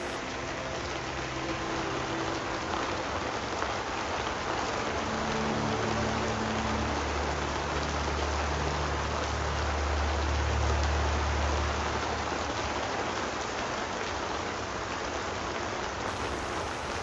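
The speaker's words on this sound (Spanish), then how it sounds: "este es el sonido de la lluvia en el Parque Tlacoquemecatl" Steady rain falling in Parque Tlacoquemecatl, a park in Mexico City, a dense continuous hiss of drops on surfaces with a low rumble underneath, even and unbroken throughout.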